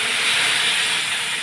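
Water poured into a hot pan of fried soybean and potato curry spices makes a loud, continuous steamy hiss and sizzle, close up and alone.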